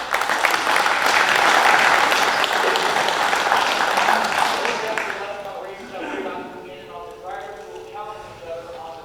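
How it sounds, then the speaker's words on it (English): Applause from a banquet audience at a racing club awards night fills the first half loud and dense, then fades to scattered claps as a voice starts talking. "Give yourself a big round of applause."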